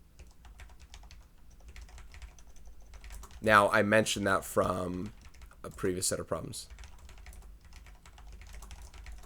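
Steady clicking of typing on a computer keyboard runs through the whole stretch, close and soft, while someone talks over part of it.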